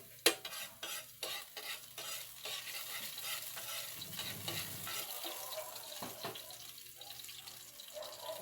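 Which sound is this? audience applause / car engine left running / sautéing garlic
sautéing garlic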